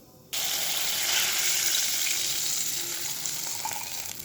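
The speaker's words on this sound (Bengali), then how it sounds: "তার যে পাল্প আর জলটা বের করেছিলাম এটা কড়াইয়ের মধ্যে দিয়ে দিচ্ছি" Tamarind pulp and water hit hot mustard oil in a wok with a sudden loud hiss that swells into a steady, close sizzle and bubbling, no voices.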